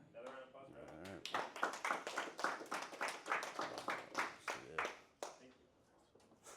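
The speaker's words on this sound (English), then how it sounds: "Another round of applause for that." Quiet scattered applause from a small classroom group, a run of soft claps that rises and fades over a few seconds, mixed with background voices.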